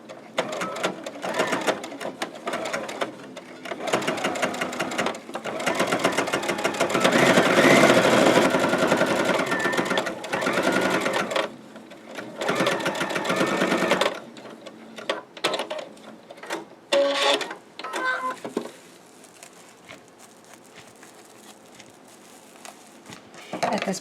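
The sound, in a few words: sewing machine stitching a seam on a fabric pot holder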